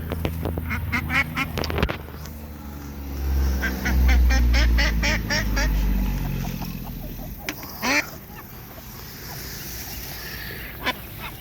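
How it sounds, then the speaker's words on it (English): A brooding duck on her nest quacks repeatedly in a rapid, rhythmic series, close by, over a low rumbling background with some other fowl noises. "Back here's a nest that one of the ducks has brooded on. You can hear her."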